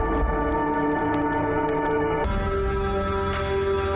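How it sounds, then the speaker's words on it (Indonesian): A telephone rings on and on unanswered in a film scene, a steady electronic ring layered over a dense, continuous music score. "Tapi berulang kali, telepon dari Kamala dibiarkan begitu saja."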